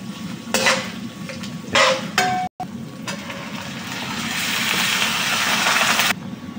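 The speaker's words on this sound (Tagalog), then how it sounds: "Gisa muna tayo ng bawang, sibuyas, saka luya." Garlic, onion and ginger sauté in a pan for chicken adobo, with a few sharp utensil scrapes and clanks against the pan early on, then a rising, steady sizzle that swells before stopping suddenly.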